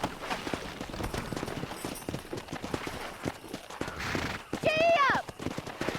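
Horse hooves clip-clop in the Red Dead Redemption western game, steady and close amid constant talk, with a horse whinny rising near the end.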